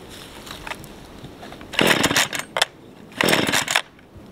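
A chainsaw's starter cord is yanked twice, each pull a loud, rasping ratchet of about half a second, with quieter handling clicks before and between the pulls.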